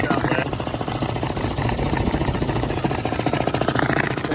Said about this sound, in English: it's a functioning air compressor.